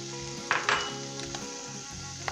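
Spices go into chicken frying in a pan for a spicy chicken macaroni dish, with a soft steady sizzle, a couple of sharp metallic clinks early on and light stirring knocks, all close and without speech.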